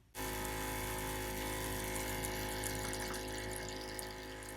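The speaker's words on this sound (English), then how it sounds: "The water coming out of the faucet was really inconsistent." A water pump runs and faucet water flows into a sink in a camper van, starting abruptly and holding as a steady close hum and rush.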